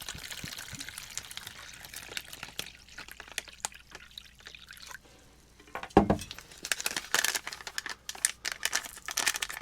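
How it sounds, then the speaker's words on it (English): Water pours into an MRE orange beverage bag with crinkling plastic, quiet trickling and rustling that builds to a louder splashing pour near the end, close and alone without talk. "No guessing on how much liquid you need to pour in there."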